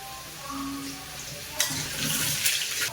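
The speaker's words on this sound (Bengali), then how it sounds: "আলু আমার ভাজা হয়ে গেছে" Potatoes fry in a pan with a pinch of turmeric, cooking for a spiced fish curry. A low, steady sizzle swells into louder, crackling frying about halfway through, with bursts of hissing and stirring.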